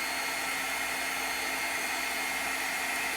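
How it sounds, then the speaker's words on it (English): Loud, steady whooshing roar of a hot-air blower running continuously at close range. "I would just bring in my heat tool, and I know it's gonna get very loud."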